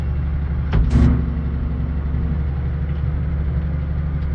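A tractor engine runs at a steady idle, its low droning rumble continuous and close throughout, with a brief louder surge near the start.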